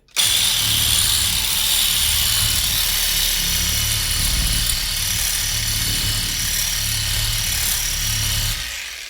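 An AL-KO cordless reciprocating saw runs continuously for about nine seconds while cleaning a surface, giving a loud, steady buzzing drone with a rhythmic low chatter from the stroking blade, then cuts off at the end. Nobody speaks.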